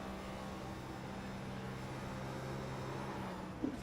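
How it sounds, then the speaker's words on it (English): A race car in an oval racing video game at the Auto Club track drones steadily as the driver comes off and back onto the throttle. The engine note is faint and even, with a small bump near the end and no talk over it. "You hear him out of the throttle, in the throttle, out of the throttle"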